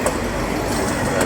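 Two coupled Doodlebug DMU Sprinter diesel railcars roll past near Tyabb station on the Stony Point line, a loud, close, continuous rumble of wheels on rail with faint clicks.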